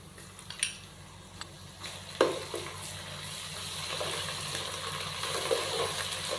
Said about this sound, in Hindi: अदरक और लहसुन के पेस्ट को शामिल करने के बाद हमने इसको अच्छे से मिक्स कर दिया